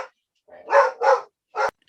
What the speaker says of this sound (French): Excusez la chienne.